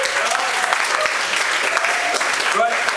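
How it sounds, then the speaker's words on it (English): Audience applause at a poetry reading at the Tiger Temple in Bangkok, a steady wash of clapping filling the whole stretch, with voices and crowd noise mixed in underneath. "Right, no time for applause."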